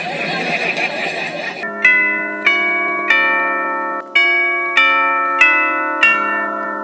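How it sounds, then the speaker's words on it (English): A doorbell chimes in a run of about six bright, ringing strikes, each fading before the next, following a short stretch of noisy bustle. "I see you brought a new doorbell, Hancock."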